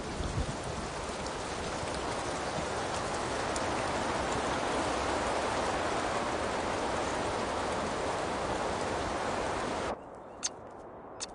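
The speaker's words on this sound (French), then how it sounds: "Impossible de pêcher sous cette pluie torrentielle." Torrential rain pours down steadily over a canal, a dense, loud hiss of heavy drops that stays constant for about ten seconds before dropping away, leaving a couple of faint isolated drips.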